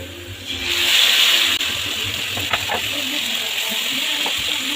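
A paste of ginger, tomato, chili and cumin, with turmeric, hits a hot oiled frying pan and sizzles. A loud, steady hiss is broken by a few scraping stir sounds, with no voice over it.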